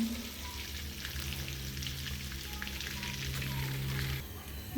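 Steady, dense sizzling of small fish roe frying in a hot pan, a continuous crackle with a low hum underneath and no talk.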